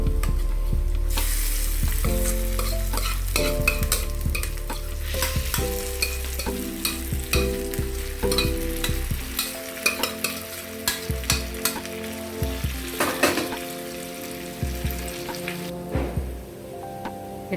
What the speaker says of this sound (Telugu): ఇప్పుడు మనం తోటకూరని ఇందులో వేసేసుకోవాలి.